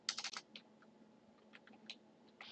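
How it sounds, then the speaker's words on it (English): Quick bursts of clicking keystrokes on a computer keyboard, a fast cluster at first and then scattered taps, heard close and quiet over a faint background hum. "as soon as I type in a portion of that string"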